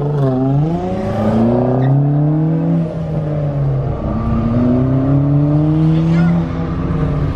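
A group of cars rolling out together for a canyon drive, among them a supercharged V6 Mustang, an M3 and an RS: loud, close engine drone rising and falling in pitch as the engines rev and pull away.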